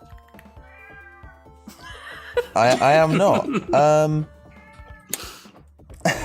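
A cat meows several times, a couple of short close calls followed by a longer drawn-out caterwaul, with people chuckling and speaking briefly around it in a quiet room.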